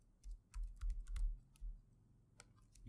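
Quiet keystrokes tapping on a computer keyboard while code is typed, a few scattered clicks in a brief irregular burst, then one or two isolated taps, with no talking.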